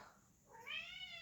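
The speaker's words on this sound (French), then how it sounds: "Bébé, c'est un chat qui parle." A talkative cat meows once in a rising, drawn-out call, clear and fairly close against quiet room tone.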